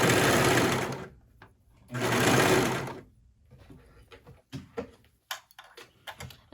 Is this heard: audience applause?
no